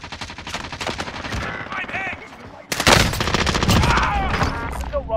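Gunfire in Call of Duty Warzone on Rebirth Island, dense rapid automatic bursts that grow louder and closer midway, with overlapping shots and a voice speaking beneath the shooting.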